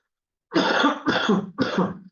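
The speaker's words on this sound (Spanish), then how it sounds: "espera, voy a toser mucho." A person coughs three times in quick succession. The coughs are close, loud and harsh, and they start after a brief silence.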